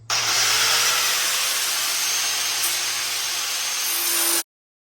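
A power tool, likely a grinder or cutoff tool, cuts metal angle for bed sides with a steady, loud high-pitched whine and hiss that runs continuously before stopping abruptly.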